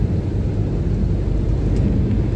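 A big winter storm in Iceland in January 2022, with high spring tide and heavy seas. A dense, steady roar of wind and surf fills the clip, loud and unbroken, with no talking.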